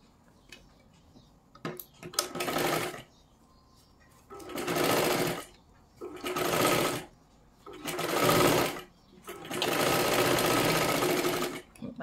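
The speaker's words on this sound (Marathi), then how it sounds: "आता ह्याच्यावरती आपल्याला अजून एक डबल शिलाई मारून घ्यायची आहे." Sewing machine stitching a double seam on a katori boat-neck blouse, running in five distinct bursts of rapid whirring separated by short pauses, fairly close and clear with no talk over it.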